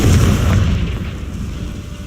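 A Confringo blasting curse going off in Hogwarts Legacy, a loud deep boom with a rumbling tail that fades over about two seconds.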